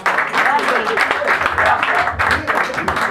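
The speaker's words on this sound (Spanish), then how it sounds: "Un fuerte aplauso" A crowd at a Peruvian criolla music gathering applauds as a cultural ambassador is welcomed, loud clapping blended with cheers and voices talking over it, surging again toward the end.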